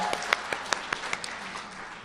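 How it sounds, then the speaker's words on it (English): A small audience gives a short golf clap, a handful of light, separate claps in an uneven rhythm fading out within two seconds, with murmuring underneath. "A little golf clap to this person here."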